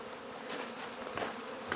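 A close, continuous hum of buzzing honeybees at a beekeeping class, steady and fairly loud, with a few brief clicks and bumps.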